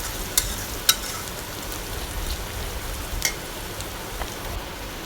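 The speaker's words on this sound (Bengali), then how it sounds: "এখানে তেলের সাথে পেঁয়াজটা আমি ভেজে নিচ্ছি" Onions frying in oil in a home kitchen give a steady, close, rain-like sizzle throughout, with a few sharp pops and clicks breaking through, and no one speaking.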